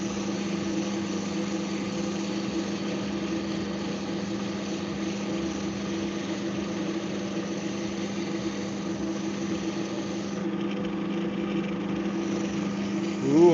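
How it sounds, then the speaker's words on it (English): Dremel rotary tool sanding a metal knife blank, a steady, close, droning motor whir with a continuous grinding hiss that holds level for the whole stretch. "I might even just sand with the Dremel."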